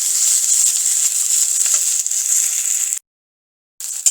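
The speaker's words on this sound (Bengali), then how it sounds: "এবার টমেটোটাকে এর মধ্যে দিয়ে দেবো, দিয়ে একটু ভেজে নেব।" Tomato fries in a hot pan with a bright, steady hiss that cuts out abruptly for nearly a second before resuming briefly.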